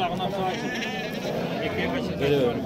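Goats bleat repeatedly at a crowded livestock market in Nookat, with wavering cries rising over a steady murmur of buyers and sellers talking close by.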